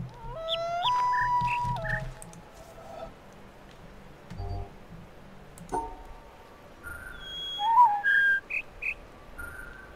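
Birdsong from an animal in the puzzle video game The Witness: clear whistled notes in short rising and stepped phrases, one group early and another later, separated by quiet ambience.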